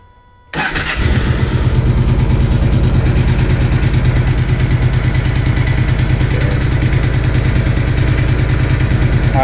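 After a brief quiet moment, a motorcycle engine cranks and fires up, then settles into a steady, close, rhythmic idle.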